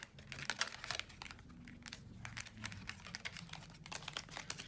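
Tarot cards being sorted into piles and shuffled, with a run of close, crisp papery riffles, flicks and soft crinkling taps that go on steadily with no talk.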